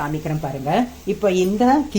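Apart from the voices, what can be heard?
No everyday noise stands out behind the speech.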